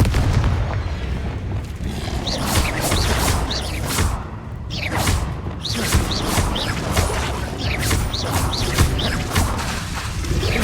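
Explosive combat spells blast and boom repeatedly in the Hogwarts Legacy video game, a dense run of loud bursts and crashes over a steady game din with no talking.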